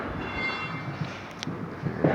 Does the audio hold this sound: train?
yes